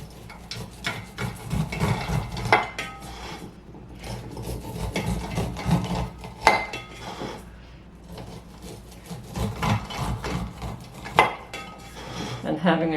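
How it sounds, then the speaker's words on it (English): A sharp knife trims corn kernels off the cob into a tray during home canning, giving close, repeated rasping scrapes in an uneven rhythm with clinks against the tray. "You leave some of the stem on and trim away, and all your corn bits fall into the tray nice and clean."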